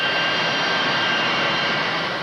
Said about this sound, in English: These Impala are Italian planes, produced here under special license. They're equipped with British Rolls-Royce engines